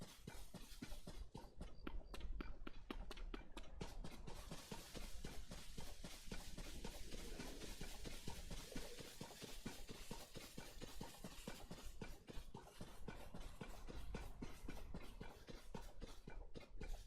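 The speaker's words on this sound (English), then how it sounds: "Wild horse. I'm sure I saw some horses over here." A horse's hooves clip-clopping steadily in Zelda: Tears of the Kingdom, a fast even rhythm of hoofbeats that continues throughout, moderately loud against a dense game background with no talking.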